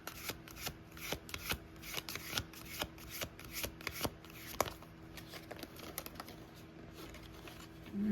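Tarot cards are shuffled by hand in soft, quick riffling bursts, close and quiet, with a few small taps and slides between them.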